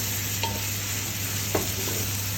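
Beef browning in a pan sits under a steady low sizzle with a constant hum, broken by two brief scrapes of a spoon stirring the meat.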